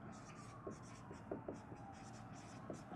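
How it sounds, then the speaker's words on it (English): Chalk or marker writes on a board during a physics lesson on vectors, making faint, quick scratchy strokes in short irregular bursts over a quiet room. "So let's start writing some things down."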